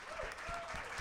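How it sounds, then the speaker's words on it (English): An audience applauds for Wendell at an evening event, a brief wash of steady clapping at moderate distance with a voice faintly audible over it. "Can everyone give a big round of applause for Wendell?"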